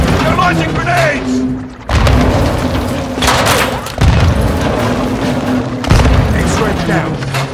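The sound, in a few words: grenade explosions in video game Call of Duty Modern Warfare 2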